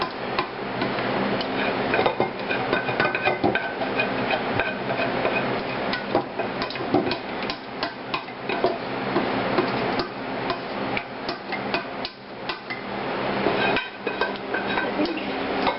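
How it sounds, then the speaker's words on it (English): Spoon scraping sauce out of a cooking pot into a crock pot, a busy run of metallic scrapes, taps and clanks against the pot rim, close and fairly loud. "just throw the sauce right into your crock pot"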